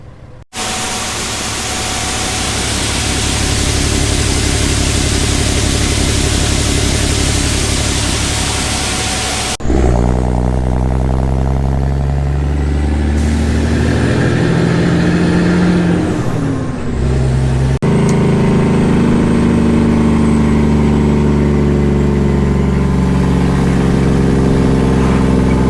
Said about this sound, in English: I just got in the semi here, so I'm gonna play super trucker here and take a few loads into town